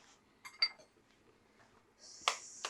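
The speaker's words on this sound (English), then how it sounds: "So she's cracking an egg." An egg cracked against a bowl or pan edge in a home kitchen: a few faint knocks and clinks, then a sharper crack and short hollow tap near the end, close and quiet.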